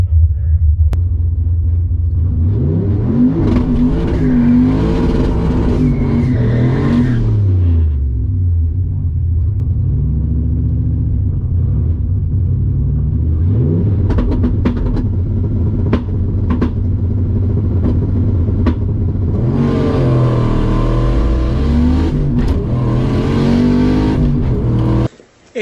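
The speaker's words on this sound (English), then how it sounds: "I'll just go for a second gear burnout and see what happens" A Holden car does a second-gear burnout at the 2022 Holden Nationals, its engine roaring loud and close as the revs climb, fall and surge again for the whole stretch, with voices faintly mixed in before the sound cuts off abruptly.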